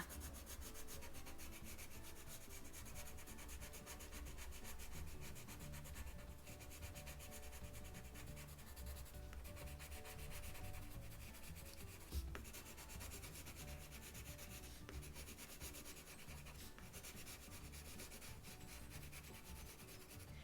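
Pencil shading on paper while drawing a quail, a steady close rubbing and scratching texture that continues evenly throughout with no talk.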